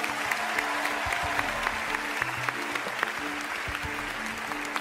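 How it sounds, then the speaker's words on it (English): Studio audience applause fills the whole stretch, a steady dense clatter of many hands clapping at a moderate distance, with no talk over it. "How about a big round of applause for both of them?"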